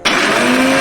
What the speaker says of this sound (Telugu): ఇదిగోమ్మా కొంచెం ఈ ఎల్లుల్లిపాయలు కూడా మిక్సీ పట్టుకోవాలి